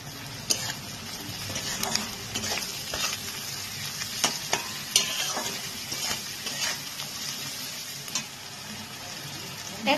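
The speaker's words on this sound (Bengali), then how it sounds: "দিয়ে একটু আরেকটুখানি ভাজা ভাজা করবো এই পেঁয়াজটাকে।" Onion with salt frying and sizzling in a pan, stirred steadily with a utensil that scrapes and taps the pan at irregular intervals, close and continuous with no talk.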